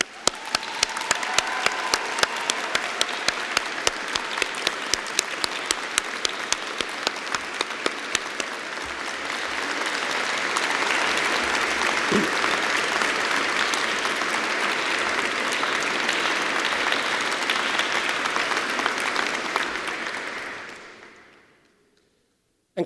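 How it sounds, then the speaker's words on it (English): Graduates at a degree ceremony in Ely break into loud, sustained applause, starting as distinct sharp claps that build into a dense, steady roar of clapping before fading out near the end. "let's give them a massive round of applause"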